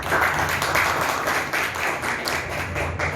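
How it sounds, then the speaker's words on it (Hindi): A crowd at a Hindi poetry gathering (kavi sammelan) claps in a dense, steady burst of applause lasting a few seconds, fairly close, with no voices over it. "जो लोग प्रसन्न हैं वो एक बार जरूर ताली बजाएं"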